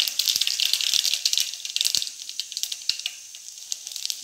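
Mustard seeds sizzling and popping in hot oil for a tempering, a dense crackling hiss with sharp irregular pops, close and loud, fading slightly toward the end.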